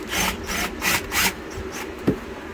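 Hose clamps being undone on the rubber boot of a Mercruiser 5.7 engine in a 1997 Maxum 2300SC cuddy cabin boat, heard as several close, scraping metal-on-rubber rubs in an uneven rhythm, ending with a single sharp knock.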